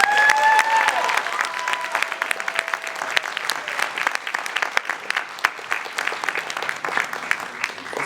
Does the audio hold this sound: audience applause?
yes